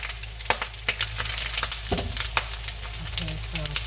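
Corned beef hash browning in a frying pan, with steady sizzling and scattered sharp pops and crackles throughout, plus a few stirring scrapes, close and moderately loud.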